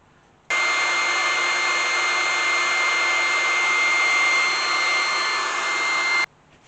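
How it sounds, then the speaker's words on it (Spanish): A hair dryer blows steadily on a decoupage craft piece, switching on abruptly, holding a loud, even whooshing roar for about six seconds, then cutting off, with no talking. "lo podemos secar con un secador si quisiéramos. En este caso voy a secarlo para poder seguir trabajando."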